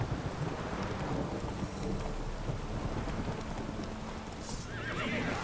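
Roach the horse in The Witcher 3, with hooves clip-clopping in a steady gallop under rain and rumbling thunder and a whinny rising near the end, all game sound with no talk.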